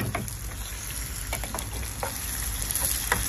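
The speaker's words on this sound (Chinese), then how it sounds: "老规矩，葱姜蒜爆香" Scallion, ginger and garlic sizzle steadily as they are stir-fried in a hot wok, with a constant crackling hiss of oil and light scraping taps of the spatula throughout.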